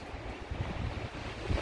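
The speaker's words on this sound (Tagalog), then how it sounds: "Ang hangin talaga, grabe." Strong typhoon wind roars and buffets the microphone in low, rumbling gusts, a continuous blustery rush with no voices.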